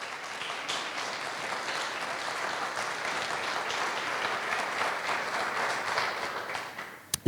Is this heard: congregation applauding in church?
yes